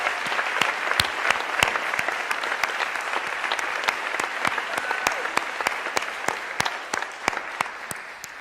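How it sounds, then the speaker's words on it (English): An audience claps steadily for over eight seconds at a feminist art center event, a dense, sustained round of applause with sharp individual claps standing out, tapering slightly toward the end. "can we just have one more enormous round of applause for Toshi?"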